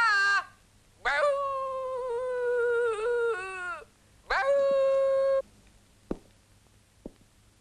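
A human voice imitates a dog with drawn-out, whining barks and howls in three long bursts, followed by a couple of short sharp sounds.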